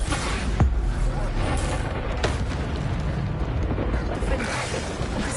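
Bombarda blasting-spell explosions in Hogwarts Legacy rumble and boom in a loud, continuous barrage. A few sharper cracks punctuate a steady roar of game combat.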